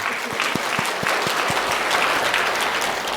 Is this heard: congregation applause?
yes